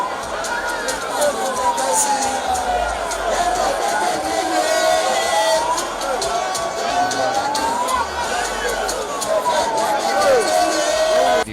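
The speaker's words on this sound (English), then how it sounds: "The roadshow, which started at the party secretariat at King Square at Sakmamba Road, attracted a crowd of supporters." A large crowd of supporters at a political party roadshow rally in Benin, Edo, sends up a steady, loud roar of cheering, whooping and babble, with a wailing siren-like tone sweeping up and down through it.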